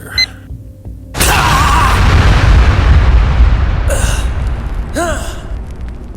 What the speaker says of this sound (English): Planted a set of explosives, programmed to detonate at the same signal frequency you used to activate your ice bombs.